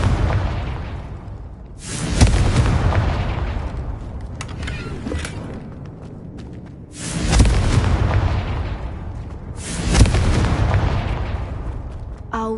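Two loud booming blasts of the Confringo fire spell in Hogwarts Legacy, each a sharp hit that rolls into a long rumbling decay, with game ambience in between.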